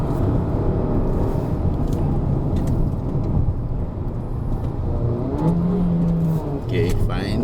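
A Peugeot 3008 SUV engine drones steadily on a test drive at Genting, its pitch dipping as it shifts up a gear near the end, with people talking over it inside the cabin.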